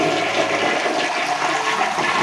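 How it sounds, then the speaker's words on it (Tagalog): Toilet flushing in a condo bathroom after bowl cleaning, a loud close rush of swirling water lasting a couple of seconds, no voices. "And then, pwede nang i-flush."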